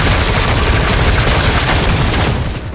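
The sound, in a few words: gunfire at a helicopter in the video game The Darkness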